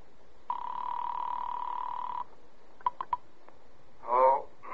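Old-fashioned telephone bell in a radio drama, one steady ring of about two seconds followed by a few short clicks of the receiver, then a voice starts to answer.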